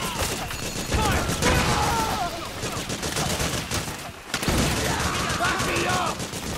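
A fierce firefight in Metal Gear Solid 4 on PS3 fills the scene with continuous gunfire and bursts, loud and close, while soldiers shout over the shooting.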